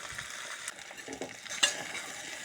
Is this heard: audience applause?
no